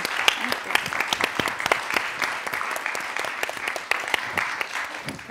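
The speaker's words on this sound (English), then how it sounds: "Please, a huge round of applause for this amazing panel." A panel audience claps steadily throughout, a dense patter of many hands at moderate volume with a few sharper claps standing out.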